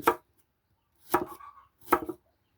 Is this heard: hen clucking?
no